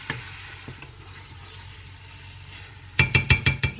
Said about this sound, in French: Je laisse bien revenir l'oignon.